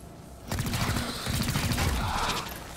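Gunfire in XCOM Chimera Squad aimed at a paladin enemy: a dense burst of rapid shots with a mechanical clatter, fairly loud and sustained for about two seconds.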